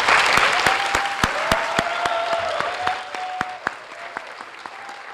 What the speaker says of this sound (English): Let's give them an opening round of applause.